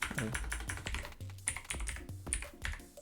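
Typing on a computer keyboard during Python coding work, with quick clustered keystrokes over a low steady tone, close and fairly loud throughout.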